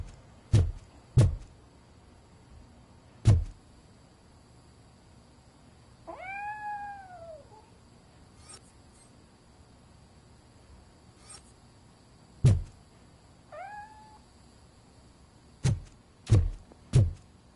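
A cat named Grumpy gives two separate meows, a longer one and then a shorter one, amid quiet surroundings punctuated by several sharp thumps and clicks.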